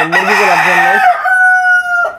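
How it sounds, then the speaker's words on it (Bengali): A brown rooster kept as a fancy rooftop chicken gives one loud, close, sustained crow that rises and then holds a long, drawn-out tail note, with no other sound around it. "এই যে এখানে আমার ব্রাউন কক আছে"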